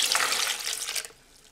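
Water pours in a quick hissing splash into a container for a vegan cashew dressing, loud for about a second before cutting off to near silence.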